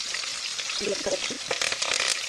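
Green chillies frying in a hot pan with onions, a steady sizzle and crackle with scattered pops and a few stirring scrapes, close and fairly loud throughout.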